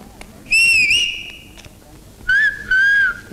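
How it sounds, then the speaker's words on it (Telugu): Shrill police whistle blasts from a Telugu film scene sound close and loud in two separate pairs, each a piercing tone that bends slightly in pitch, with quiet gaps between them. "ఇది మామూలు విజిల్ కాదు పాప, పోలీసు విజిల్."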